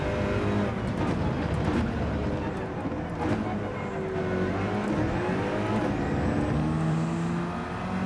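Renault British touring car racing in Gran Turismo 7, its engine droning steadily with rising and falling revs through gear changes, moderately loud and continuous throughout.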